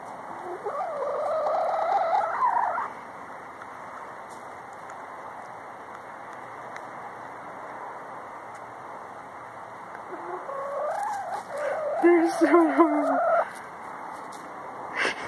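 Hens kept indoors as houseguests cluck in two bursts, one at the start and a longer, louder one near the end, with a quiet stretch between them.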